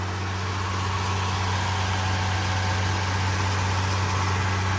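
A car engine idles with a steady low rumble and a constant hum, close and even throughout the short stretch, with no talking over it.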